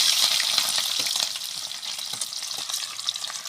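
Green garlic and chopped onions frying in hot oil, a steady dense sizzle with crackles and occasional stirring, close and fairly loud throughout with no talk.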